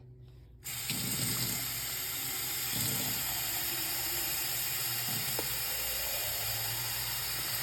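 Tap water pours steadily into a water gun after it is turned on, making a loud continuous hissing rush with a few faint knocks and clicks under the flow.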